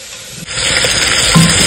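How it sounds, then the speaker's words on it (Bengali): Meat hits hot white cooking oil and erupts into a loud, steady sizzle with stirring, close up and alone, while being browned for an Afghani meat and potato dish. "এই তেলের সঙ্গে মাংসটা আমি একটু কষাবো।"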